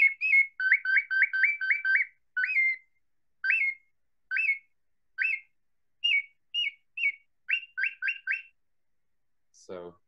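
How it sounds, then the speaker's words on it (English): A handheld tweeter bird-call whistle chirps in quick clustered bursts, then sparser, evenly spaced single and paired tweets, bright and close, with no other sound around it. "here's what the tweeter sounds like"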